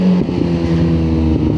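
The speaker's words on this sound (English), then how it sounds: "See how much engine braking that gave me, dropping down a gear." A car engine held near 5,000 RPM as the driver drops down a gear, giving a loud, steady droning hum with a slight shift in pitch partway through and no talking.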